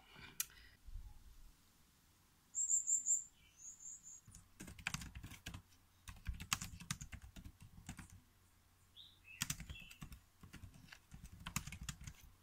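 Keyboard typing at a desk computer while writing text, bursts of soft clicking clustered in short runs with pauses between, fairly faint, with a brief bird chirp early on and no talk.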